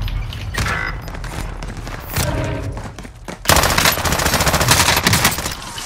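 Incoming gunfire in Call of Duty Modern Warfare: dense automatic bursts crackle loudly and continuously, with a heavy volley intensifying halfway through and sustained rapid shots to the end.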